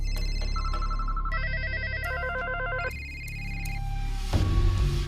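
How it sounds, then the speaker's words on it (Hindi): Several telephone ringtones and bells sound one after another in stepped electronic tones, loud and close, ending in a burst of rougher noise. "ये फोन की आवाजें हैं"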